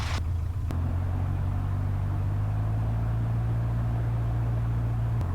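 An Aeronca Champ light airplane's engine holds a steady low droning run-up on a grass strip, a constant near rumble with a slight pitch rise partway through and no talk.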